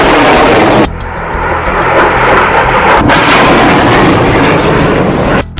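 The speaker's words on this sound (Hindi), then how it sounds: "हमास एक के बाद एक 10 रॉकेट फायर करता है" Hamas rockets launching one after another fill the air with a loud, sustained roaring rumble punctuated by sharp blasts and crackles, with no voices over it.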